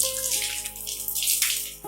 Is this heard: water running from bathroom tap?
yes